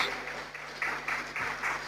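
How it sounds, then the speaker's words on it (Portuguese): A congregation claps at a church service, a brief, faint patter of applause under a soft background hum. "Se você pode, dê para Jesus uma salva de palmas"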